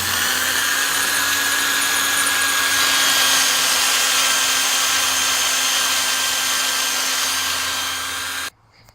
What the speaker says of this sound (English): I'm going to drill a hole right there to mount the heatsink for the module.